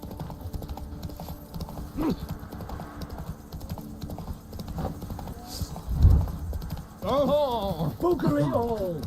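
A horse in The Witcher 3 runs with steady clip-clopping hooves, and a thud lands near the end. Someone speaks over the hoofbeats at several points.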